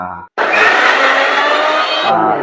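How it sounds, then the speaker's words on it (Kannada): A mixer grinder whirs loudly at close range, grinding garlic into a paste in a village kitchen, starting abruptly after a short pause and running steadily for about two seconds before cutting off. "ಇದನ್ನ ಮೊದಲು ಗ್ರ್ಯಾಂಡ್ ಮಾಡ್ಕೋತೇವೆ"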